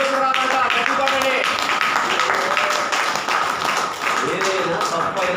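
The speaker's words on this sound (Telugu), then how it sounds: "చప్పట్లు కొడితే గుండెలో రాదంట. గట్టి కొట్టండి." A church congregation at Sunday worship claps hard and steadily in a dense, continuous patter, while a voice talks over it.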